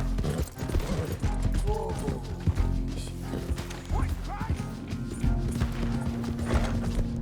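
Horse hooves clip-clop in Red Dead Redemption 2, a steady loping beat at moderate distance, mixed with creaking tack and mechanical clatter under a busy game soundscape; a brief voice is heard.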